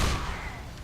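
Bomb detonating in Left 4 Dead 2, a single sharp blast that rolls off into a brief decaying rumble.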